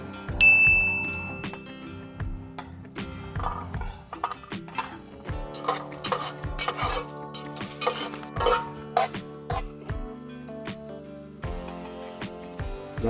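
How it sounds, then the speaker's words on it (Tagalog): Ginger sautéed in a pan for a Filipino catfish dish, with close spatula scrapes and clacks against the pan over a soft sizzle in an uneven stirring rhythm, no voices. "Atong iuna gisa ang luya."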